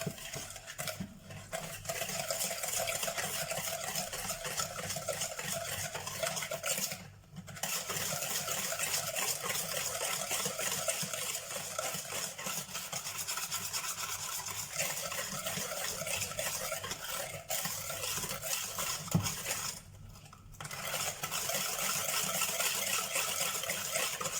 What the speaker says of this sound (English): Then I have half a cup of sugar. Which I'm gonna mix with the egg yolks.